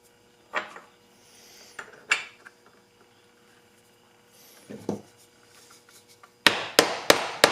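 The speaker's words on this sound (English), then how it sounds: "you hit that down with the hammer, and that kind of flattens and squishes out the rivet" Hammer blows set a rivet on a leather knife sheath for a hand-forged custom EDC knife: a few scattered single knocks early, then a quick cluster of sharp, close, loud strikes at the end.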